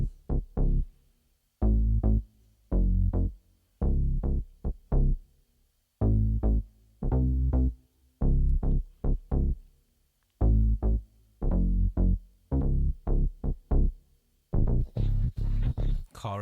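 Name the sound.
combination of three synth bass lines layered together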